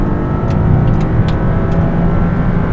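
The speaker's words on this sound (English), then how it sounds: "Feel the Nettuno engine and the torque." A Maserati MC20's Nettuno engine roars steadily under acceleration at Sepang circuit, loud and close, with a deep continuous growl and no talking.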